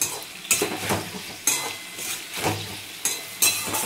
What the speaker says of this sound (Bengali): এবারে কষে নেবো ভালো করে